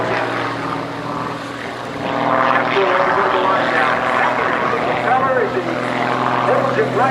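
Pitts S-300D aerobatic biplane flown by John Klatt performing at the 2005 Westfield International Airshow, a steady propeller-engine drone that swells louder midway with shifting pitch as it maneuvers, under a public-address announcer's talk.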